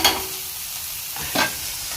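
Nethal anchovy fish frying in a pan give off a steady, bright sizzle throughout, with a couple of soft scraping stirs partway through and no talking.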